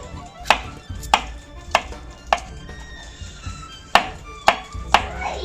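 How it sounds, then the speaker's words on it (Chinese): A knife dices soaked dried shiitake mushrooms on a cutting board, about seven sharp, separate chops at an uneven pace. The board is close and nobody talks over them. "好的香菇切丁。"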